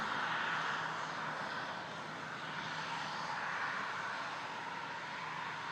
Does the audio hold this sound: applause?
no